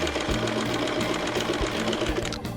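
A sewing machine stitches a mitered corner in fabric, a continuous close mechanical hum with a fast rhythmic needle chatter running without pause and no talking.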